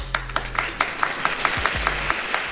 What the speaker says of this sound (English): I had to give myself a round of applause